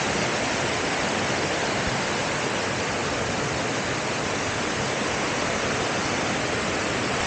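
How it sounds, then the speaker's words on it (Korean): A mountain waterfall rushes down near a temple trail, a loud, unbroken roar of falling water that fills the whole stretch with steady broadband noise and no other sounds. "폭포"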